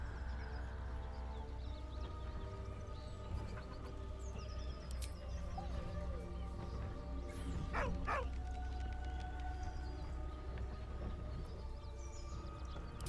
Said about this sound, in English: With a deep, heartbroken whine, the dog bows his head. He whines, but remains rooted by the corpse's side.